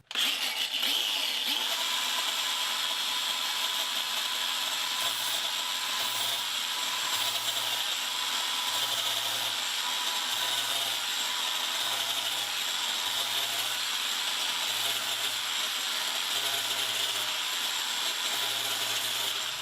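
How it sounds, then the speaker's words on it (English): A grinder fitted with a flap disc strips old cushion rubber from a pool table, producing a continuous loud, high-pitched whine with a rhythmic grinding pulse underneath, heard close up and without a break. "As you can see with the flap disc here, it makes short work of getting rid of this old rubber here."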